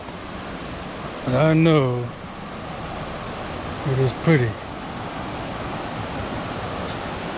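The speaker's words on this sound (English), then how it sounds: "I don't know if you can hear the sound, waterfall" Bambarakanda Falls in Sri Lanka gives a steady, even roar of falling water throughout, with a person speaking briefly over it twice.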